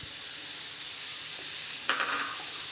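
Chopped onions and carrots sizzle in a hot pan with a steady, even hiss, and a brief clatter of a spoon or vegetables lands near the end.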